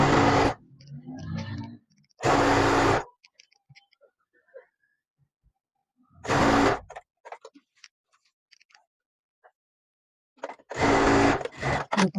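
A sewing machine stitches falls onto a saree in short loud bursts of rapid whirring, separated by quiet pauses filled with faint clicks and handling of the fabric.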